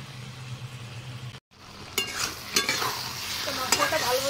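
Chicken masala sizzles and fries in a pan while a spatula stirs and scrapes it, a continuous close frying hiss broken by a brief pause and several sharp scraping strokes.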